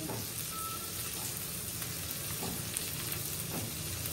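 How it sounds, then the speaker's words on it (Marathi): Whole pomfret fish frying in a pan, a steady dense sizzle with faint crackles running throughout at moderate level, no voices. "मस्त पापलेट फ्राय बघा कसा बघा हलते बघा नाचते बघा"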